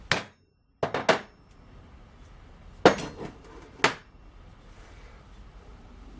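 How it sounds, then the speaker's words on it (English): A heavy hammer strikes a copper tulip petal set on a spoon dolly, giving several sharp, ringing metallic blows at irregular intervals, close and loud, with quiet pauses between them. "and then with a heavy hammer give it one blow."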